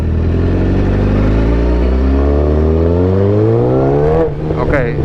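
A 2008 Suzuki GSX-R 1000 motorcycle engine revs steadily and loudly up close, its pitch climbing smoothly through the gears before a brief dip near the end, with no stutter.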